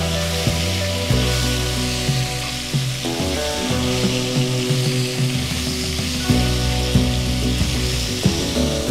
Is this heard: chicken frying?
yes